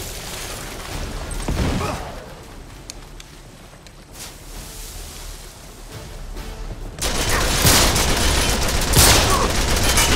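Pistol and other gunfire in Uncharted 3, loud and noisy, with bursts of shots and a dense stretch of firing near the end, a voice occasionally heard under it.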